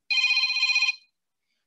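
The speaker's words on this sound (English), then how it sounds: "Sorry, my phone's ringing." A phone rings once in a single trilling electronic burst of just under a second, loud and close, then the room falls quiet.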